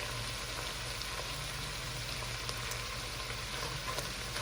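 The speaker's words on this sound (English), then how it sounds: "So I'm gonna let this cook down until the onions and garlic are a little bit translucent" Onions and garlic fry in a pan for homemade chili, giving a steady, even sizzle with soft crackles throughout and a low hum beneath, no voices.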